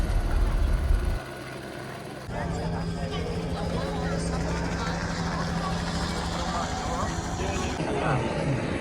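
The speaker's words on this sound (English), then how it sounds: "We had a lot of helicopters." Helicopters fly over Rio de Janeiro on New Year's Eve, a steady low rotor drone with faint tonal hum that holds through most of the stretch beneath people talking nearby.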